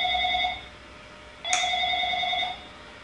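A telephone rings indoors in two electronic trilling bursts separated by a short pause, clear and moderately loud over a quiet room.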